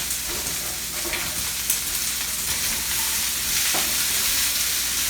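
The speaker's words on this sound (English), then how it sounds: "And now we're going to sear our vegetables." Asparagus and mushrooms searing in a pan, a steady, fairly loud broadband sizzle with a few faint stirring clicks throughout.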